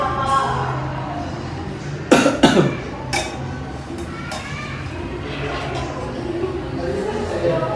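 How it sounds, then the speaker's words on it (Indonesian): A sharp, forceful cough bursts out once amid a quiet room, with soft voices murmuring before and after. "bisa tahan nafasnya selama 2 detik, lalu batukan sekuat-kuatnya ke dalam sekutu"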